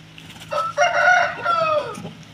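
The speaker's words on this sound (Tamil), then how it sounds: "சேவல் பாருங்க வித்தியாசமாக இருக்குது" A rooster on a chicken farm crows once in a loud, drawn-out call lasting over a second, followed by a trailing lower note, close by with faint farmyard background and no talk.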